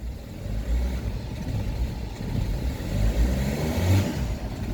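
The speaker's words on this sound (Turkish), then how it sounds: "Gaz veriyorum." A car engine revs under throttle in fourth gear, a low rumbling drone that swells and eases over several seconds, fairly close and loud with no talking.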